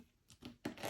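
Friction tape being cut after wrapping around a tool handle: two or three quick, faint snipping and tearing sounds, close and brief, in a quiet room.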